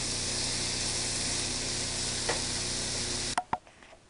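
Bacon frying in its own rendered fat in a pan, a steady dense sizzle for several seconds, then a couple of sharp clanks and scrapes as the sizzling drops away.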